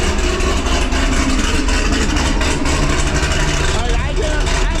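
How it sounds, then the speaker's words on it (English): A loud, steady engine drone from a built Corvette with long-tube headers and a Corsa Extreme exhaust, a deep rumble throughout, close by and unbroken. "Every time I start this car up, I'm reminded of exactly how loud this is."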